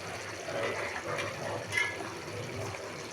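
Hot water pours into a pot of moong dal and bottle gourd, a faint, continuous gushing splash lasting a few seconds, heard without talk.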